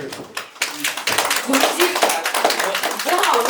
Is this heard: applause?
yes